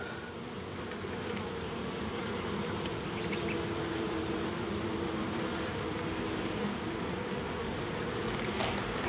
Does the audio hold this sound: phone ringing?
no